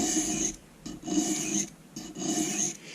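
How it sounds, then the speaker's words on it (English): Paring knife being sharpened on a stone: three long, even rasping strokes in steady rhythm, each a gritty scrape separated by brief pauses, close and clear with no talking. "That is a lot of stroke right there, doing an awful lot of sharpening"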